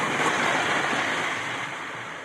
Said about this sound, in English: when the ice is moving and it's a windy day, it's, there's a background din of crunching going on